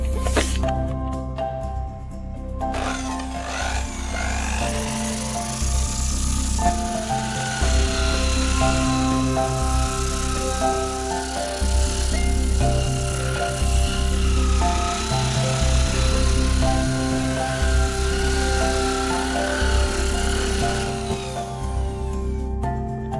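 A coarse-grit sanding wheel grinds tool marks off a wooden part for a classic rocking chair, a steady close whirring drone that runs nearly unbroken from start to finish with no talk.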